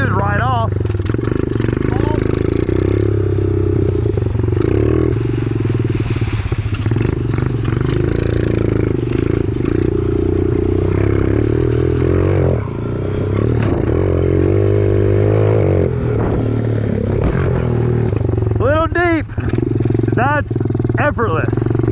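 A pit bike motorcycle engine runs loud and close at a training day, droning steadily with rough clatter and revving, while people talk over it nearby.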